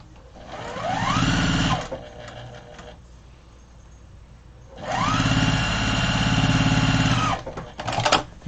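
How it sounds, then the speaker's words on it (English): A sewing machine stitches fuchsia fabric on a large grocery tote bag in two sustained whirring runs of about two and three seconds, separated by a quieter pause, with a few brief stitches at the end. "you don't have to be fancy with your sewing because it's a tote bag"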